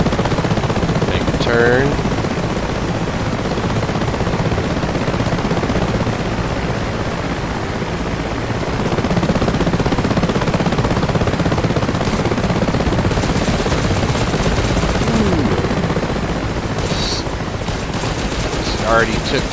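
Door gunner on a Mi-8MTV2 helicopter in DCS fires sustained machine-gun bursts over the constant rotor and engine drone, with a brief spoken line near the start.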